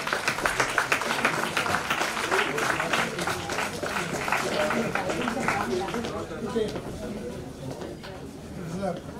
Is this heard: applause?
yes